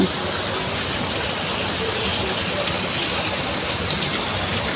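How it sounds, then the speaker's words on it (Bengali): Steady rain falling outdoors on a morning, a dense, even hiss that stays constant and fairly loud throughout with no break. "বাইরে বৃষ্টি হচ্ছে"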